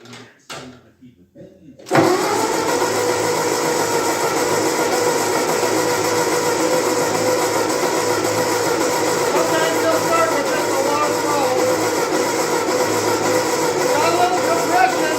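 A 1945 Ford 2N tractor engine catches after a short quiet cranking start, then settles into a loud, steady, continuous running rumble close by.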